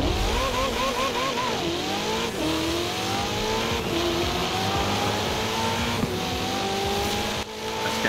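Racing cars in Forza Horizon 4 accelerate hard, engines revving and rising in pitch through repeated gear shifts, loud and continuous throughout with no talking.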